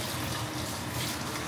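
Hot water, around 47 degrees, runs steadily from a kitchen tap for washing dishes, a continuous close-up rush and splash with no talking.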